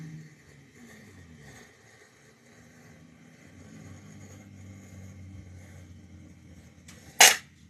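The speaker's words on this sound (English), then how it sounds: "Y'all hear them cars outside?" Old, beat-up cars pass outside, heard faintly from indoors as a low, uneven rumble that swells and fades, with one sharp bang near the end.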